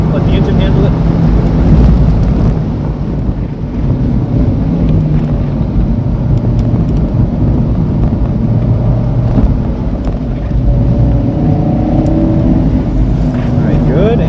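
A Fiat 124 Spider lapping VIR's Patriot Course holds a continuous, loud engine drone from inside the car, rising and easing as the driver rolls off the throttle, with voices talking over it.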